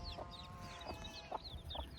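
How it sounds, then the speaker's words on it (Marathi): A hen with her chicks outdoors on a farm, soft repeated clucks about every half second beneath thin high chirping from the chicks, close and fairly quiet. "चिव चिव चिव चिव करते ते कोंबडीची पिल्लं"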